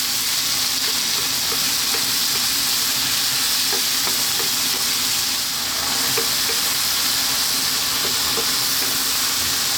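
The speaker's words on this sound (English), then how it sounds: "Staying on this high heat 3 more minutes. Stirring pretty much all the time." Tuna tomato pasta sauce fries on high heat, a loud continuous sizzle close up with frequent small clicks and scrapes of constant stirring, and no talking.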